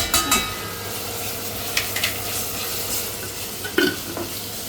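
Tomato paste being stirred into hot sizzling oil in a pot for Kastamonu-style dry bean stew, with a steady frying hiss and a few clear scraping knocks of the spoon against the pan, no talk.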